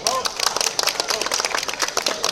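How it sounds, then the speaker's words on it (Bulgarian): Audience applause in a lecture hall at a cosplay talk, a short burst of dense, fairly close clapping from a small crowd that fills the whole moment. "Това е Рали, моля за аплодисменти."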